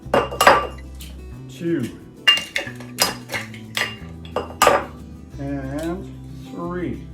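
Eggs are cracked one after another into a bowl of nut cake batter for an Old Kentucky nut cake, making sharp taps and clinks against the bowl while a person talks between them.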